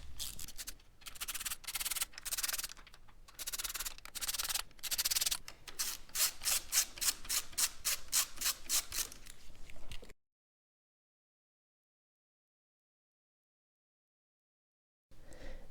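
Clutch cover bolts on a Yamaha FZ motorcycle are worked loose with a tool, giving close scraping and rubbing sounds that turn into quick, rhythmic ratcheting clicks before the sound cuts to silence.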